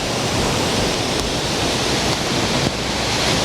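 A waterfall in Bali gives off a loud, continuous roar of falling water, broad and unbroken, with no one talking.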